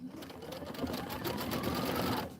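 An embroidery sewing machine stitching a border design runs in a steady, fast, buzzing whir for a couple of seconds before slowing and stopping.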